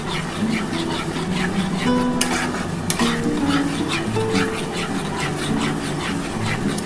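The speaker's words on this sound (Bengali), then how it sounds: "সুজিটা ভালোভাবে নাড়াচাড়া করতে হবে, নাহলে কিন্তু তেলা পাকিয়ে যায়" Semolina stirred in a pan with oil for making luchi, a continuous scraping and light sizzle with a couple of sharp utensil knocks against the pan midway.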